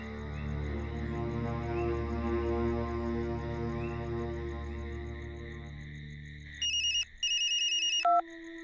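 A mobile phone rings with a steady repeating electronic ringtone indoors, loud and sustained, then cuts off and gives way to a few short electronic beeps, with no voices.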